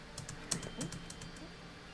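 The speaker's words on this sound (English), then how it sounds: "Can y'all hear my clicking?" Rapid clicks and key taps from a computer keyboard and mouse during a game stream, quiet and close, a scattered run of sharp ticks over a faint background hum.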